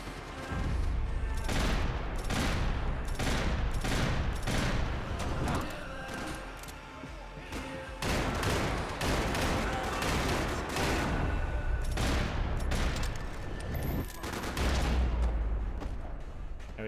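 Dense, loud bursts of automatic gunfire in the Max Payne 3 video game, rapid volleys repeating almost nonstop with brief gaps, close and dominant.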